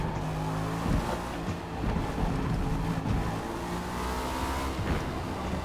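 A Cadillac V-Series.R race car at Spa in Forza Motorsport runs at full throttle, its engine a loud, sustained roar rising through the revs, with brief shifts and no talking.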